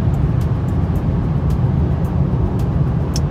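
Inside a Mercedes E53 AMG cruising the Autobahn at 130 km/h, a loud, steady low roar of road and engine noise fills the cabin, with faint ticks over the constant rumble.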